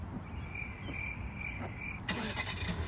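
A car engine turning over by remote start, a soft mechanical whir and tick followed by the engine catching and settling into a quiet idle heard from outside, with a faint high insect-like whine throughout.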